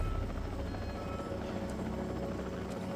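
A helicopter in Jurassic World Evolution flies close by with a steady, loud rotor thrum and engine whine that stays constant over a few seconds.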